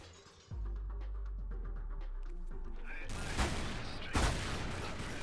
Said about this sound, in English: now you have to use a grappling hook to use this dragon statue thingy to destroy a mirror